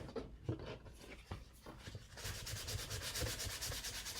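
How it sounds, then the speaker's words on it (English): Sandpaper rubs steadily across a small handmade journal in quick back-and-forth strokes. The rasping starts with a few scattered passes and then settles into a dense, continuous rhythm, close by and fairly quiet. "is just sanding this a little bit"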